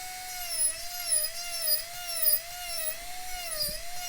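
A Strong 202 micro motor spins at high RPM while carving wood, producing a close, steady high-pitched whine. Its pitch wavers slightly as the bit bites, with faint scraping underneath.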